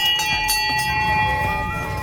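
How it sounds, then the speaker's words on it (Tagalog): A temple bell rung at a Ganesh shrine in Kathmandu Durbar Square, Nepal, rings with a sustained metallic tone and lingering overtones over a busy crowd murmur. "What's the purpose if we ring the bell?"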